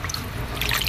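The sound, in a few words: water being poured into a cooking pot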